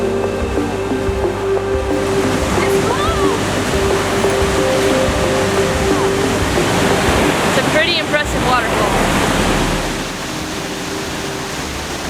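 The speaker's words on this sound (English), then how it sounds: "that is a really powerful waterfall" A powerful waterfall at Lake Clark, Alaska roars as a loud, steady rush of falling water, with a voice speaking briefly over the constant wash.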